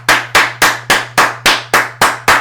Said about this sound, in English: We got to clap our hands.